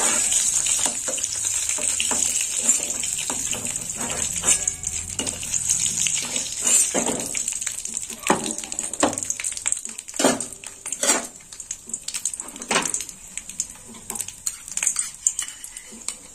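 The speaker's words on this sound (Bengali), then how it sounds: "পেঁয়াজটা একটু তেলের মধ্যে হালকা করে ভেজে নিলাম।" Onion fries lightly in oil for a brinjal and cabbage curry, giving a steady hiss and sizzle with occasional clinks and scrapes of a utensil stirring in the pan.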